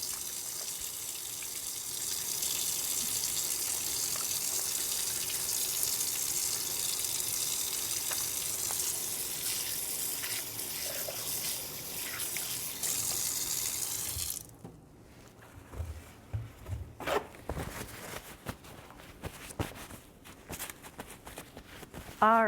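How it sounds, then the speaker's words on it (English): Tap water runs steadily into a kitchen sink while hands are washed, a loud continuous gush that stops partway, followed by quieter knocks, footsteps and handling sounds in the room. "I'm just washing my hands quick before we get started"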